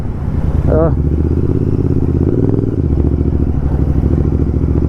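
A Royal Enfield Interceptor 650 twin-cylinder motorcycle idles with a deep, steady thumping exhaust rumble, close and loud, with a brief throttle blip partway through and someone talking over it.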